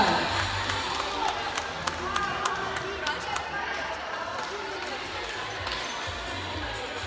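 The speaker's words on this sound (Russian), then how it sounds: "Аплодисменты команде ЦСКА." An audience at a youth mini-basketball tournament award ceremony applauds the CSKA team with a continuous wash of clapping and crowd noise, sharper claps popping through, and a voice talking underneath.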